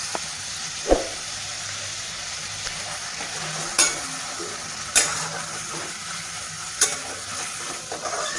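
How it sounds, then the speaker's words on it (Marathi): Mussels fry with turmeric and a pinch of salt, a steady close sizzle broken by a few sharp spoon knocks against the pan. "हळदीमध्ये हे छान फ्राय करून घ्यायचं थोडंसं मीठ टाकायचं"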